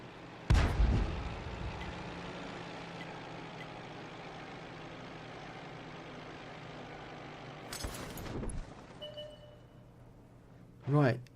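A Sturmpanzer II fires its gun in a tank video game: one heavy, booming shot, a steady rumbling engine drone, then a second sharp blast later and a final loud thud near the end.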